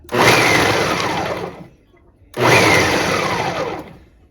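Onions chopped in an electric chopper, two loud whirring motor bursts of about two seconds each with a short pause between, close.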